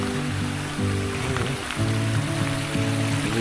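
Water gushing strongly from a natural spring source, a steady, loud rushing and splashing flow that fills the whole stretch close by.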